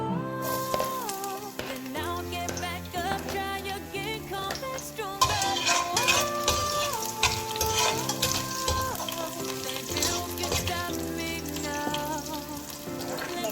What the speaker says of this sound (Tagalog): Ayan, mag-umpisa na tayo mag-gisa. Una ang garlic.